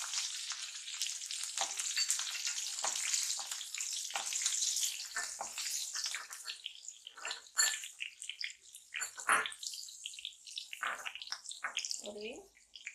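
Green chilies sizzle and crackle in hot oil for poha chivda, a bright continuous frying hiss with stirring scrapes and occasional spatters, close and fairly loud throughout.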